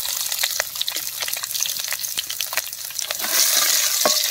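Steady sizzling of mustard seeds, lentils and shallots frying in hot peanut oil, with crackling pops throughout and a louder hiss building near the end; no talking.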